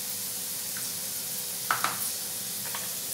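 Green vegetable pulao being stirred as it sizzles in a pan, a steady frying hiss with a few soft scraping stir strokes near the middle, close and moderately quiet, with no talking.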